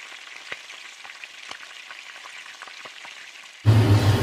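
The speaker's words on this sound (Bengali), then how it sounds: "এবার মাংসগুলো দিয়ে দেবো, দিয়ে আবার ভালোভাবে মাংসগুলোর সাথে কষিয়ে নেব" Meat browning in hot spiced oil in a pan, a steady close sizzle with occasional clicks of stirring, ending in a sudden loud burst of frying.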